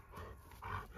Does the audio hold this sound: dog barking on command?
yes